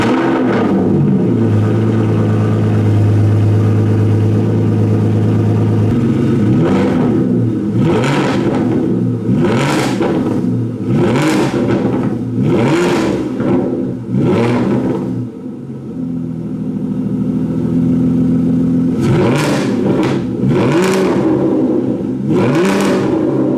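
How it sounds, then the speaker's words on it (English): A 2018 Aston Martin Vanquish S Ultimate Edition running in standard and sport modes: a loud, close engine with a low idle rumble broken by repeated sharp throttle blips and revs, a brief dip, then more revving bursts. "We can now hear the car in standard and sport modes."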